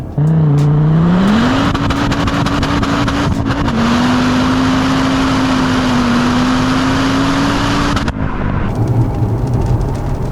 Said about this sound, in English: The 5-cylinder, the 5-pot engine, they sound amazing.